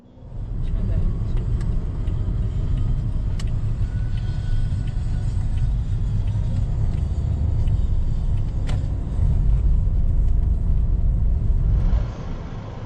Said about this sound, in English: So we drove there slowly.